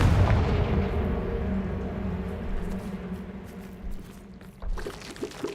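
A Confringo blast spell goes off in Hogwarts Legacy, making a loud, heavy explosive boom with a long rumbling roar that slowly fades, plus a few crackles and another thump near the end; no voice is heard over it.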